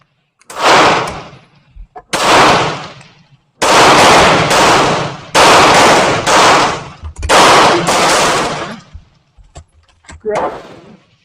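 A Bear Creek Arsenal 5.56 rifle with a 20-inch barrel that is not yet broken in fires at 50 yards. About six loud, close shots or short bursts each ring out and decay, separated by short pauses.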